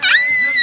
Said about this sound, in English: Now you scream in the front.